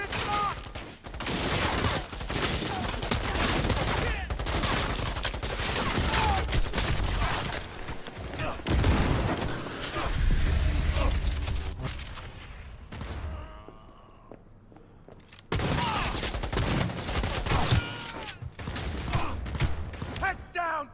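Gunfire, including shotgun blasts, rings out in a shooter video game set in Cyberpunk 2077, as dense, loud, continuous bursts of shots and mechanical clatter with a brief lull before firing resumes; voices are heard amid the action.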